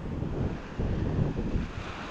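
Sea waves wash against a seaside shore with steady surf and wind rumble, moderately loud and continuous, a couple of stronger swells rolling in with no voices.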